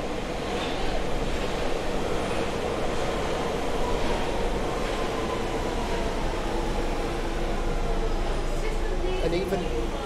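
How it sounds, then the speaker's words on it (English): A London Underground train passes through Notting Hill Gate station, a continuous broadband rumble and rushing roar that holds steady and loud throughout, with faint higher squeals and clatter riding on top. "There's a train."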